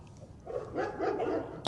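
Two dogs bark and yip in a short, fairly quiet burst, a few overlapping calls close together mid-clip with a soft background hum around them.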